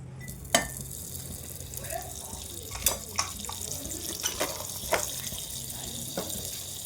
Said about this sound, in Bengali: তো এগুলো এখন ভালো করে ধুয়ে নেব